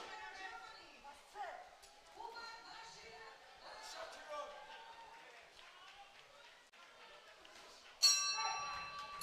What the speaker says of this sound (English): So there goes the bell at the end of the third and final round, and Akbar celebrates as well.